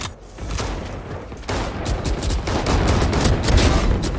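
Rapid gunfire in a Valorant deathmatch, bursts of automatic shots and single cracks overlapping loudly and continuously, with several weapons firing at once near and far.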